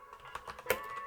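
Brief burst of typing on a computer keyboard, a few quick soft key clicks with one sharper press, close and quiet with no voices.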